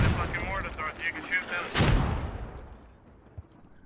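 Mortar fire in a military video game: a loud boom near the middle that rolls off into a fading rumble, heard over heavy background game noise.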